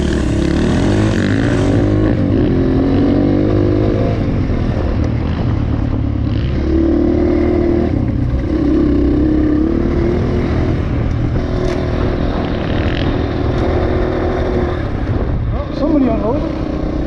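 Dirt bike on an enduro trail riding off, a steady engine drone with rising and falling revs throughout, loud and close, with gear clatter and talk mixed in.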